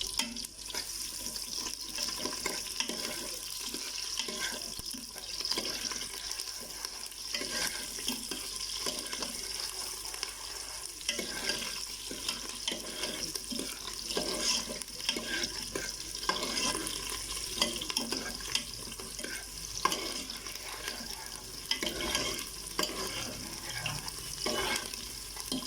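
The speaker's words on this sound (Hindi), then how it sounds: "प्याज को हम हल्का सा फ्राई कर लेंगे।" Onions frying in about a cup of oil in a pot, a steady, close hiss and crackle of sizzling that runs continuously throughout, with occasional stirring scrapes and no voices.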